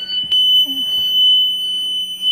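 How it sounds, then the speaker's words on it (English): A school bus Vandalock anti-theft alarm sounds as a continuous, steady high-pitched electronic tone, loud and unbroken, with a couple of faint clicks and knocks underneath. "See the alarm going?"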